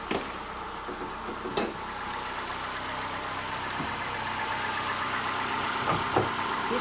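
A 2011 Mercury Milan's 2.5-litre four-cylinder Duratec engine idles at a steady, low hum under the hood, with a couple of brief clicks and knocks standing out over the continuous drone.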